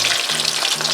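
Fish pieces browning in hot oil hiss with a dense, continuous, loud sizzle that stays even throughout, close up and with no voices.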